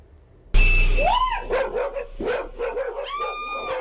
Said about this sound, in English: Screams and barks rang out as more than a dozen dogs circled around her car